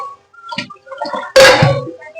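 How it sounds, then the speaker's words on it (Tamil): Water splashes and gurgles into a pot for tamarind rasam, starting with light trickles and then a loud, full gush of pouring close by. "இதுல இந்த மாதிரி தண்ணி ஊற்றி வச்சுக்கலாம்"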